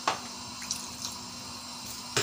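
Water poured into a pot of cooking shahi qorma, a steady close splashing stream with short louder gushes at the start and end.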